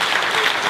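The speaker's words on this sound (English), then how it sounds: "I'm going to stop and ask you to clap your hands." Dense, close applause from an audience at a London business presentation, a steady wash of hand clapping with no break.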